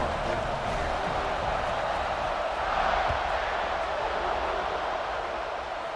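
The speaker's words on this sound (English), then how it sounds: "this crowd is buzzing after that last score" A virtual stadium crowd at a video game American football match keeps up a low, steady murmuring buzz, fairly faint and distant throughout.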